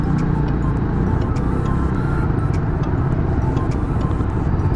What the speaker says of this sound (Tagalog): Matinding traffic yan.